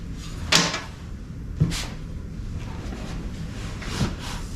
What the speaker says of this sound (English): That triggers the door to open.